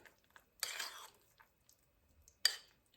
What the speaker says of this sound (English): So I'm just gonna put the spoon right in the oats and kind of mix it up